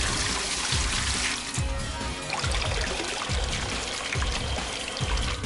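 Water pours steadily out of a machine in a video game, a continuous splashing stream with soft rhythmic gurgles recurring about every second, fairly faint and without talk.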